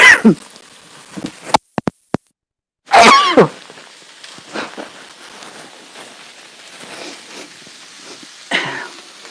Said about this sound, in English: oh I know, sneezing with pepper again